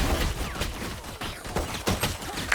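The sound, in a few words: players imitating gun noises with their voices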